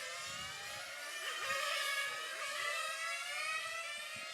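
1/8th scale RC race cars at the European B final of a track race scream past in a continuous high-pitched engine whine, several small motors overlapping and rising and falling steadily, with no voices.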